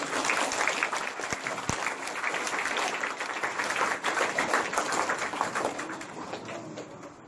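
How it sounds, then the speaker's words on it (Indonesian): Applause from students at the close of a two-day prefect training course, sustained crowd clapping at moderate level that slowly fades toward the end, with a couple of sharp knocks early on. "Tepuk tangan sekali"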